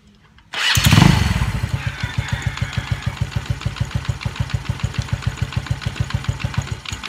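A Yamaha Mio Sporty scooter with a noisy, fluttering drive belt and clutch cranks and starts, then settles into a steady, rhythmic putter at idle, close and fairly loud with no talking.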